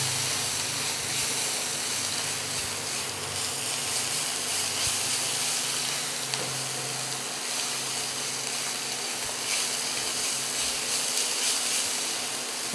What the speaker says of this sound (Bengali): ভালো করে মিশিয়ে নেবো, ভালো করে একটু ভেজে নেবো